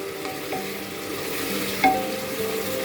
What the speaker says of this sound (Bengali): এইভাবে মাংসটাকে খুব ভালো করে কষায় নিতে হবে